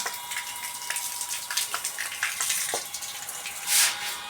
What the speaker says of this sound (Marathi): सगळं असं पाणी मारते